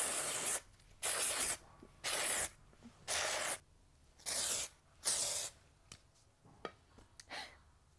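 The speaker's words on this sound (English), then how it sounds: "I'm going to spray some of this through my roots and my mid-lengths." Dry shampoo sprays in six short hissing bursts, evenly spaced about a second apart, close to the microphone, followed by quieter rubbing and small breaths as it is worked through the hair.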